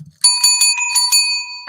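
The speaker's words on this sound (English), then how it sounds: "these kind of clanker bells" A small metal clanker bell rings out bright and close in about five or six quick, uneven strikes, each leaving a short ringing tone.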